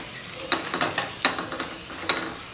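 A tempering of dried red chillies and curry leaves crackles and sizzles in hot oil, with soft spoon scrapes and short popping bursts in an otherwise quiet kitchen.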